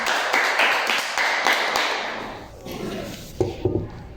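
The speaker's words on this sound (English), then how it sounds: "Applause for Jenny." A group applauding with dense, steady clapping that fades out, leaving a few scattered taps and knocks.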